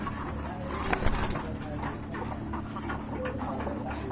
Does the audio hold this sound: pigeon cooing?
yes